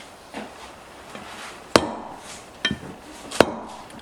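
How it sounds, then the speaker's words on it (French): A small drift punch taps lightly on the outer race of a crankshaft bearing pressed into a Minarelli-type engine case, giving a few sharp isolated metallic knocks at uneven intervals over a quiet background. "Vous pouvez éventuellement contrôler avec un petit chasse en tapant légèrement bien entendu que sur la cage extérieure de votre roulement"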